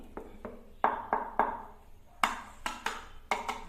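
A small bathroom floor with hollow spots is tapped by hand, about a dozen sharp knocks in uneven clusters, each with a short hollow ring, close and fairly clear with no talking.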